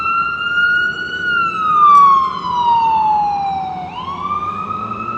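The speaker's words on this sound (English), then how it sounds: "Oh boy, that ambulance is loud." A loud ambulance siren wails through New York City streets near the World Trade Center, its sweeping tone rising and falling steadily with a brief dip and recovery, over a low rumble of traffic.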